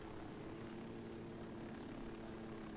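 Aircraft engine in the video game Ghost Recon Wildlands during a landing, a steady loud droning hum with a constant rotor or propeller-like tone throughout, no talk.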